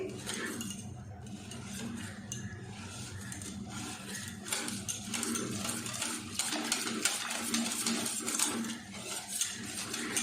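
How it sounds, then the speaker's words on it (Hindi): A rabri dessert mixture is stirred in a pot, giving faint, continuous scraping and light clinking of utensil against metal. "अच्छे से इसको मिक्स करेंगे।"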